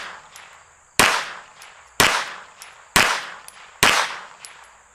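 Four sharp rifle shots firing Summit City rounds at a target ring out about a second apart, each a loud close crack followed by a brief decaying echo.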